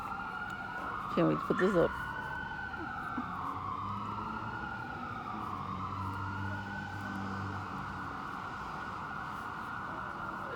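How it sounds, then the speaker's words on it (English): Emergency vehicle sirens about a block away, wailing in long rising and falling sweeps that carry on throughout, with a brief horn blast early on and a person speaking briefly over them. "It's only like a block away with the sirens."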